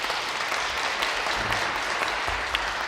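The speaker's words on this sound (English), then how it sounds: "Let's hear a round of applause for our minister." An audience at Queen's Park applauds a minister, with a thick, continuous wash of clapping at steady loudness throughout the short stretch.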